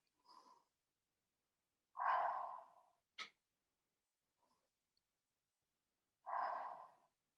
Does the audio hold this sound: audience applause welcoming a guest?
no